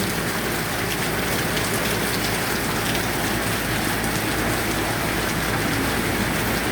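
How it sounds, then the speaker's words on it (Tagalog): Steady, heavy typhoon rain pouring down on a surface, a dense continuous hiss with no voices. "Ayan, ulan na."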